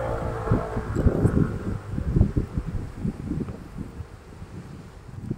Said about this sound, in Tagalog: Malamig na nga, malakas pa yung hangin.